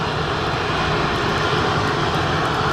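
Loud, steady drone of propeller aircraft engines at Helsinki Vantaa Airport, a continuous broadband roar filling the whole stretch without a break or any talking.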